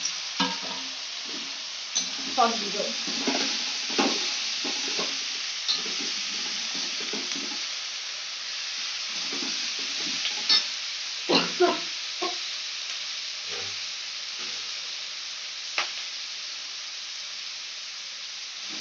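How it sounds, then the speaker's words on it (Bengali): Onion and capsicum stir-fry for homemade chilli chicken, a steady sizzle with repeated scraping stirs of a spatula in the pan, while a person briefly speaks over the cooking. "পেঁয়াজ আর ক্যাপসিকাম একসাথে দিয়ে দেবো। খুব বেশি ভাজা হবে না"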